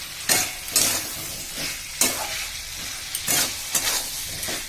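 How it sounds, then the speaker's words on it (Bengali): Soybean chunks and potatoes fry and sizzle in a pan while being stirred, with repeated scraping strokes over a steady hiss and no voices. "এবার আমি এর মধ্যে এই যে সয়াবিনগুলো ঢেলে দিলাম"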